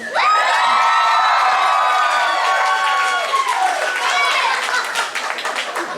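A concert audience at the New World Music Hall erupts for an engagement announcement, loud sustained cheering and whooping with applause filling the hall throughout, shrill voices rising over the clapping.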